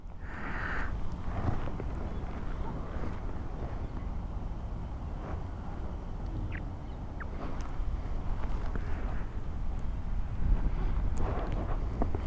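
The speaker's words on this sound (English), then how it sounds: "Slight breeze also blowing." A slight, steady, gentle breeze rushes and buffets the microphone throughout on an evening ride along a forest road near Turahalli on a KTM 390 Adventure motorcycle, a low continuous rumble with no clear voices.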